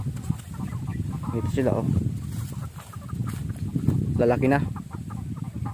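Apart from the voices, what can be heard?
pet chickens clucking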